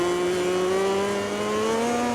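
Racing motorcycle engine in the MotoGP 20 video game, a steady high-pitched drone that holds continuously and loud throughout, pitch shifting only slightly as the bike runs flat out.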